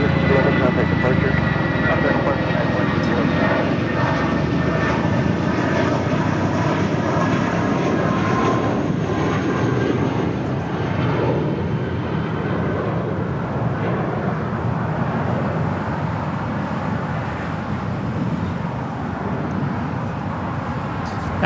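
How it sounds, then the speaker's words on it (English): A United Airlines Airbus A320 jet at LAX produces a loud, sustained engine roar lasting over twenty seconds. Faint voices run underneath. "That flight heading to SFO on that A320, United Airlines flight 2611."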